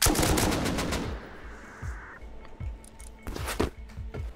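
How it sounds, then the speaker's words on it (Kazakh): Automatic gunfire from bots in the survival video game Rust, heard as dense loud rapid bursts at the start that thin into scattered single and double shots, some closer and louder, across the rest. "Бот атысы отыр."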